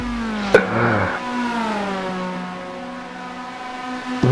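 A race car drifting on the Dijon circuit, its engine droning steadily at high revs with a sharp burst near the start, heard close and continuous with no talk.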